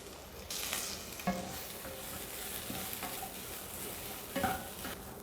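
Grated coconut is sautéed in a pan for a festive rice dish, with a continuous sizzle and repeated spoon stirs and scrapes against the pan, close and moderately loud.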